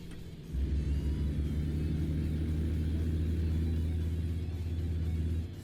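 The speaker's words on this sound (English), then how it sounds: "I have the truck noise pretty cranked when I'm just going on my own." Deep, steady diesel rumble of a big rig in American Truck Simulator, kicking in abruptly and holding a constant droning tone, loud and alone with no voices.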